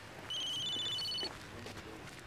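A telephone rings once with a bright electronic warble, a short burst of about one second standing clearly above faint room noise.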